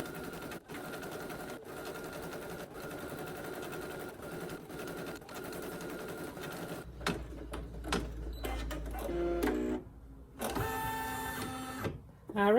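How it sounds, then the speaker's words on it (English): An embroidery machine stitching letters in orange thread, a rapid steady mechanical chatter of needle strokes that runs continuously, then breaks into uneven bursts and pauses with louder whirring toward the end. "Now we're going to stitch the sewing side letters out."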